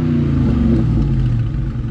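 Deep, loud exhaust rumble from a 2020 Dodge Charger Scat Pack with the 6.4-litre 485 bhp engine, heard close up as a throaty, sustained growl with no talking.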